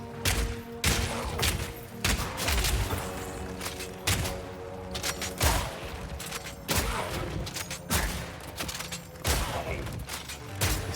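An enemy firing at the player in Path of Exile 2, repeated sharp gunshot-like bursts and thumps in an irregular volley over dense game effects and music.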